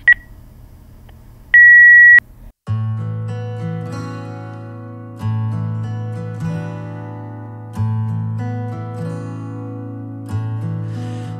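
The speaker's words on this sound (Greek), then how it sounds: "Αφήστε το μήνυμά σας μετά το χαρακτηριστικό ήχο." A single steady electronic beep sounds for about half a second, like a voicemail tone. Soft piano-like notes and chords follow.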